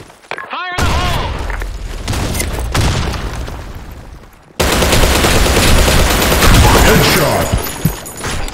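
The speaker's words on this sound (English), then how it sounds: "Fire in the hole! Grenade!" Grenade blast and sustained gunfire in a desert sandstorm map of a first-person shooter, loud and dense, with a sharp onset after a brief pause, a second surge midway and rapid shots throughout, voices shouting over it.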